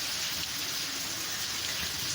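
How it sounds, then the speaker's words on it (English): Light rain drizzling on bitter gourd plants, a steady, dense hiss of drops without pauses, fairly close and even in loudness throughout, with no voices. "The drizzling of rain on this plant looked so beautiful"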